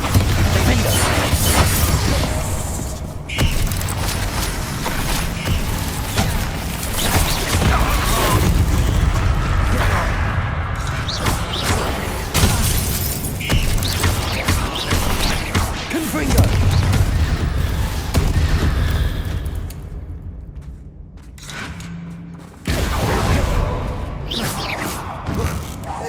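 Magic spells such as Confringo and Bombarda blast repeatedly during a Hogwarts Legacy battle, giving dense, loud booms and crashes layered over a constant roar of combat noise, with brief gaps between bursts.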